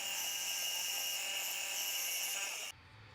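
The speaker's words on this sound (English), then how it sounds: "My little Aldi bandsaw worked a treat in this project," A small Aldi bandsaw cuts through heavy timber with a loud, steady high-pitched whine heard up close for almost three seconds, then stops abruptly, leaving a low hum.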